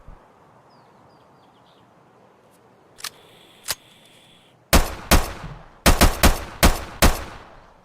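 An M1911 pistol chambered in .45 ACP fires in Escape from Tarkov, opening with a couple of mechanical clicks, then about seven loud, punchy shots in an uneven rapid sequence with short echoing tails.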